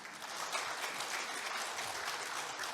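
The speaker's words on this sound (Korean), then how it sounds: "여러분 큰 박수로 맞이해 주시기 바랍니다." A forum audience applauds at an international peace conference, steady, evenly dense clapping from a large crowd with no talking.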